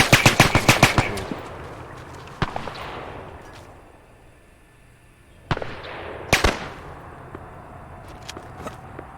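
Automatic gunfire in ARMA 3, a rapid burst of loud close shots opening the passage, then single sharp reports ringing out with long echoing decay, and another cluster of shots later over a quiet background.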